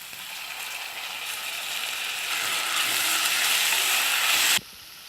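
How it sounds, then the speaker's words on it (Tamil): Ginger garlic paste fries in a hot pan with a steady, dense sizzle that swells louder over a few seconds and then cuts off abruptly near the end. "இப்போ இஞ்சி பூண்டு பேஸ்ட் நல்லா ஃப்ரை ஆயிடுச்சு."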